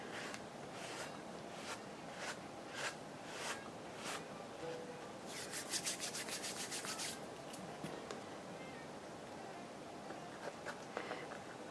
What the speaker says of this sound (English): I'm just running my finger over it to, you know, just kind of flatten it out a little bit